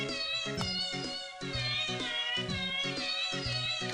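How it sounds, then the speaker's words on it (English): In a Pokémon Battle Revolution match, cat-like Pokémon cries repeat over and over, loud meowing yowls layered on game music in a steady, looping rhythm. "We're hearing a lot of kitty cats."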